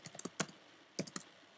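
Keys clack on a computer keyboard in two short bursts of quick typing, close and crisp with a brief pause between, no voices.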